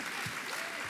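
Brief burst of audience applause at a climate week keynote event, a dense wash of clapping filling the moment between remarks without speech over it.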